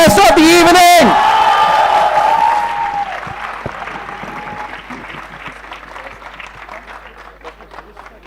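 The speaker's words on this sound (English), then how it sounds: "can we please have one another round of applause for our guest of the evening?" An audience at a college business conclave applauds the guest of the evening. A steady wash of clapping fades gradually after a loud opening tone and continues softly to the end.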